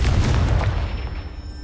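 Confringo blasting spell detonating in Hogwarts Legacy against a pile of debris blocking a stairwell, a loud, deep booming explosion that hits at once and rumbles off over under two seconds, with no voices.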